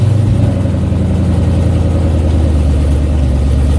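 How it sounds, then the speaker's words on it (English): A 1955 Chevy truck engine with an H-pipe exhaust runs steadily close by, a loud, even low rumble with no talk over it. "this truck, it sounds pretty darn good"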